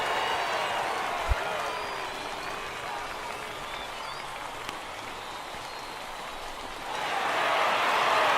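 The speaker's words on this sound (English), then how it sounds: "when you can win one at home in front of your home crowd, all those fans cheering" A home baseball crowd cheering and applauding after a win, a broad sustained roar with a brief sharp hit near the start and a swell toward the end, with voices mixed in.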